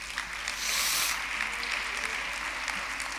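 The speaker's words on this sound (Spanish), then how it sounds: "Un aplauso para ellos." A church congregation breaks into applause, a dense, steady clapping wash that swells briefly early on and then continues evenly at a moderate distance.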